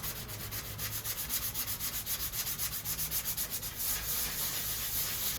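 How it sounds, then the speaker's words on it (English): Wooden skateboard decks being sanded by hand, a steady rhythmic rasp of back-and-forth strokes, close and continuous with no talk. "Sand 3 skateboards."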